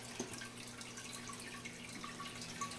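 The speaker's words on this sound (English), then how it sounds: "This is the clamato. I'll pour this whole entire thing in here." Clamato juice poured into a ceviche mixture in a home kitchen, a quiet, steady liquid trickle with light dripping over a low background hum.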